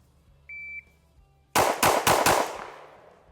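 Four quick, loud pistol shots from a ported CZ P-10C on a shooting range, fired in a rapid string and trailing into a fading echo, after a short electronic beep.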